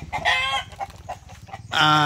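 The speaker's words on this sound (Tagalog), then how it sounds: "magkaroon tayo ng 3 manok ng Rhode Island Red na naglilimlim" Rhode Island Red hens sitting on eggs cluck and squawk close by, with a loud drawn-out call opening the stretch, softer broken clucks in the middle and another strong call at the end.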